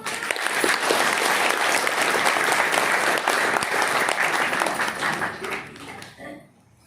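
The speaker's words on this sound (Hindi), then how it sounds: "तो इस बात की खुशी के लिए एक बार ताली बजाओ।" An audience claps at a religious ceremony where a daughter is dedicated to Shiva. The applause is dense and steady for several seconds, then tapers off and fades out at the end.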